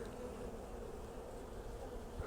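Honeybees buzzing around an open hive during a varroa mite alcohol wash check, a steady close drone of many wings with no talk.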